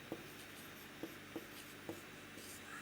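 Someone writes on a classroom board, making faint, soft scratching strokes with a few light taps spaced under a second apart, set against a steady hiss of room noise, with no voices.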